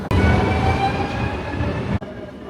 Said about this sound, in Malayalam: ഇതാണേ ഇവിടുത്തെ ട്രെയിൻ.